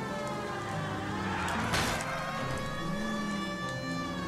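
A police car siren in L.A. Noire wails steadily at close range, loud over a dense rumble of engine and road noise, one continuous rising-and-falling tone throughout, with no talk.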